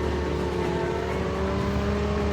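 A motorbike engine in the Call of Duty Mobile battle royale game drones steadily while riding, with a loud, continuous hum and no change in pitch or level.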